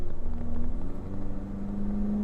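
A Toyota Tacoma engine fitted with a URD MAF calibrator runs at half throttle, a close, steady low rumble whose pitch climbs gradually, with no talk.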